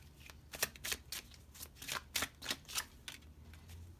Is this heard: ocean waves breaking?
no